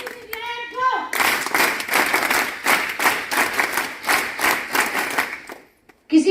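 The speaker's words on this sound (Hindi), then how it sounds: "दोनों के लिए जोरदार ताली एक बार फिर चाहूंगी" An audience at an NCC cadet camp event claps in a loud, dense burst of applause with a steady rhythmic pulse. It follows someone speaking briefly into a microphone and dies away near the end, where voices return.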